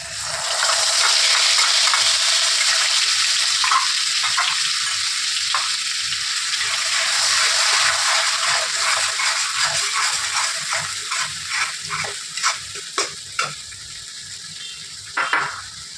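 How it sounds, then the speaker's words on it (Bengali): A paste of mustard, poppy seed, coconut and green chili hits hot oil in a pan, a loud close sizzle with stirring scrapes that gradually settles into quieter crackles and clinks. "এবারে আমি এই তেলের মধ্যে এই সর্ষে, পোস্ত, নারকেল, কাঁচা লঙ্কা, এই বাটাটা আমি দিয়ে দিলাম।"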